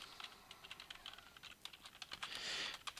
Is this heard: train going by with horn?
no